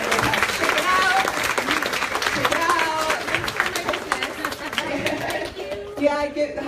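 Audience applause fills the whole stretch, a dense wash of many hands clapping nearby, with voices and cheering mixed in and a brief tonal sound near the end.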